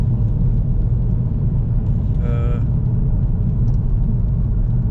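A Saab 9-5 drives along with a steady, loud low engine drone and road rumble throughout, plus a brief whirring tone in the middle.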